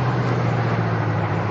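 A hydrogen-powered car engine held at full throttle, a steady loud droning roar with a strong low hum that stays constant and close throughout, no voices over it.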